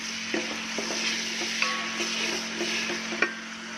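Tomatoes sizzle in a pan while being stirred for moong dal, a steady close frying hiss broken by a few light clicks of the spoon against the pan, with no one speaking.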